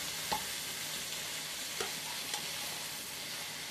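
Pak choy tossed into a hot pan for a Chinese stir-fry, giving a steady, soft sizzle punctuated by a few sharp clicks and scrapes of stirring.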